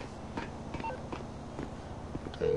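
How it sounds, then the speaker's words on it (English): Phone dialing tones in the GTA 5 video game: a quick run of short electronic beeps at an irregular pace, fairly soft, with a longer steady tone starting near the end. "Okay, phone call, please."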